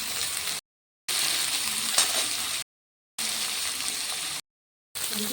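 Vegetables frying in hot oil with black cumin and chili powder, including potatoes, carrots, beans and capsicum, for a veg pasta dish: a steady, close sizzle broken by abrupt gaps of silence.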